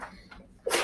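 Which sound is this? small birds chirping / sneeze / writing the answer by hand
sneeze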